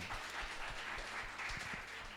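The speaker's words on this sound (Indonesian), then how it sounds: "kita kasih tepuk tangan dulu dong" Steady applause from a church congregation welcoming a pastor to the front, a soft, even wash of many hands clapping at some distance, quiet throughout.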